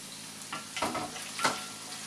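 An egg fries in a pool of oil in a wok, with a soft steady sizzle broken by two brief bursts of scraping and stirring close by.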